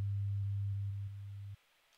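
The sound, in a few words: 100 Hz sine wave test tone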